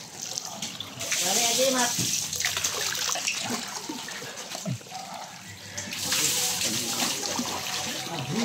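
Water pours steadily from a tap, a close rushing hiss that swells and eases, with splashes and a person speaking briefly over it.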